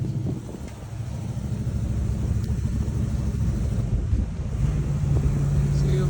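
Strong wind buffets the microphone in rough, continuous gusts over a low vehicle rumble on a drive along Highway 1, with no talking.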